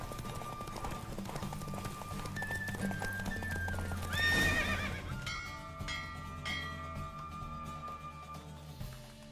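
A horse gallops with rapid clip-clop hoofbeats during a race in The Witcher 3, letting out a loud neigh midway, while game music and a faint bell sound continue underneath.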